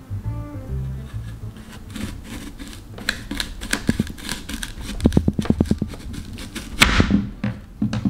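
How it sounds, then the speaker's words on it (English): A knife slices through a crisp Hidden Rose apple, a run of rapid crunchy, scraping cuts building to a sharper snap as the fruit splits, up close with no talking. "let's cut it open."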